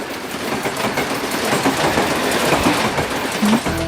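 A train rumbles past close by with a continuous rolling roar and rhythmic wheel clatter, steady throughout.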